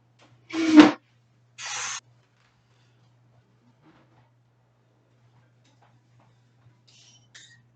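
Spray paint hissing onto a shoe in two short bursts, the first louder with a can rattle, then near silence with a faint clink at the end.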